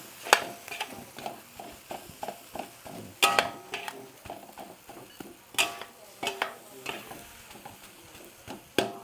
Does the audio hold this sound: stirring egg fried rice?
yes